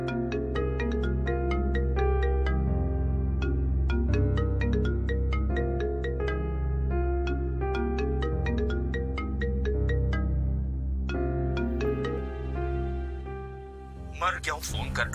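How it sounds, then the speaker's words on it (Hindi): A phone ringtone plays a repeating melodic tune loudly and steadily for about fourteen seconds indoors during a domestic drama scene, ending with a brief burst of other noise. "क्या है, किसका फोन बज रहा है?"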